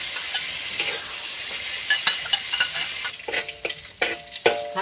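Garlic stir-fried in a hot pan with oil, a steady close sizzle broken by sharp scraping stirs and clinks of the spatula, growing busier toward the end; no talking.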